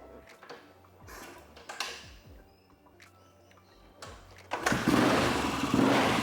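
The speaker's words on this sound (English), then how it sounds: "I'm going to give you guys a bit of a startup so you can hear this thing running, hear how it purrs" A cold Yamaha XT500 scrambler motorcycle takes several sharp kick-start strokes with brief mechanical clatters, then catches and settles into a loud, close, steady single-cylinder idle for the last couple of seconds.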